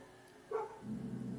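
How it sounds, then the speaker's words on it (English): A dog barks once outdoors at a moderate distance, a short muffled woof heard alone over a quiet, steady background. "Quiet Snickers, that's another doggy outside barking"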